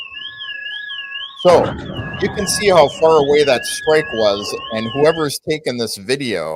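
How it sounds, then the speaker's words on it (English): Car alarms warble and beep in the distance after a nighttime strike on the Crimean Bridge, the tones sounding alone at first and then continuing faintly beneath someone talking. "you can hear the car alarms going off over by them"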